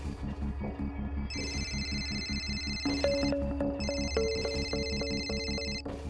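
A telephone rings indoors with a repeating melodic electronic ringtone, several bright tonal phrases over a steady low background hum, fairly close and clear.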